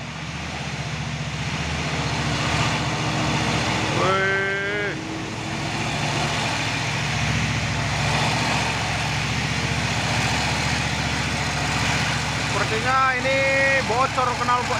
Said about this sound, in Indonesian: bocor knalpotnya nih